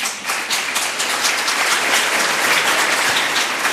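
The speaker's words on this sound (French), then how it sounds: "je crois que les applaudissements que vous allez donner à M." Audience applause after a lecture, a dense burst of many hands clapping in a hall, loud and steady throughout with no voices over it.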